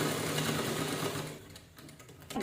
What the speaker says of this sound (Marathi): ह्याच्यामध्ये शिलाई करून घेऊया